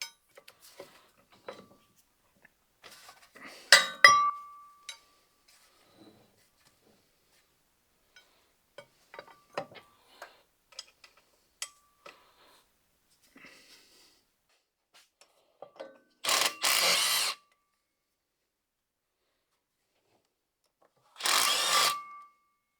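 Scattered light metallic clicks from a 12mm twelve-point socket wrench on the driveshaft bolts of a 2008 Ford Mustang GT, with two short, loud rasping bursts near the end; no talking.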